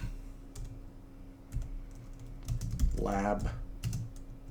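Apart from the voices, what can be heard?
typing on a computer keyboard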